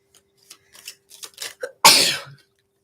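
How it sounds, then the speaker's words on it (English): A single loud, explosive human sneeze bursts out after a few soft breathy intakes, sharp and close, then quickly trails off into silence. "I got to sneeze."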